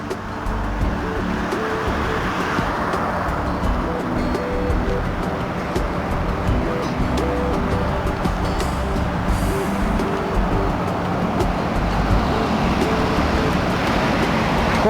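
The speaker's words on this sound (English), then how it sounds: "Quite noisy with traffic along here." Steady road traffic rumbles along a riverside embankment bypass in Wellingborough, a continuous broadband wash of passing cars and heavier vehicles at moderate distance with no clear pauses.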